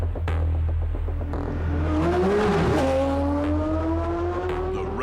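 A race car warms its tyres before a rolling start, engine revving and rising in pitch with a brief squeal of tyres, close and loud over a constant low rumble.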